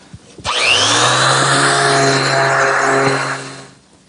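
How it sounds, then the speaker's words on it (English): A power sander works wood to smooth away saw marks while building outdoor planters, giving a steady, loud whirring drone for about three seconds before cutting off. "it's still necessary to do a little sanding to remove the saw marks"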